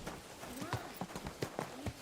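Horse hooves clip-clop in the medieval game Kingdom Come: Deliverance II, a run of sharp, evenly spaced strikes at moderate loudness over a steady ambient bed of game sound.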